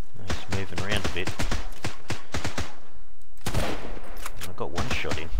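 Repeated gunshots in the survival game Sunkenland crack out in quick irregular bursts, loud and close, overlapped by steady talking throughout.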